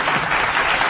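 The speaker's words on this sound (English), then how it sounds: "So a big round of applause for that." Brief burst of audience applause at a corporate recognition event, dense and even, heard for under a second.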